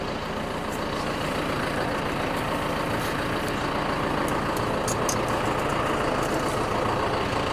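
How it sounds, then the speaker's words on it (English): A diesel tractor engine idles steadily nearby, a constant low rhythmic chugging with a faint rattle and no voices. "I'm not going to rev the tractor up for the sound sake of it"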